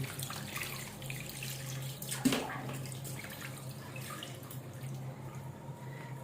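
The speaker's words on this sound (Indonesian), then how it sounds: "sekarang kita bilas lagi dengan air dingin" Cold tap water runs steadily over raw bat meat being rinsed, a continuous splashing hiss with one brief louder splash partway through.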